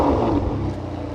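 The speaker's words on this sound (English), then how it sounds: "Take a listen to this V12." A 2007 Ferrari 599 GTB Fiorano with a V12 engine and six-speed manual revs loudly and close, a deep throaty roar that holds steady, then eases slightly as it settles.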